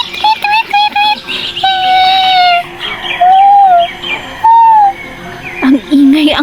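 Birdsong in a morning forest setting: a series of clear whistled chirps and tweets repeating in short phrases, loud and close, with a voice speaking over parts of it.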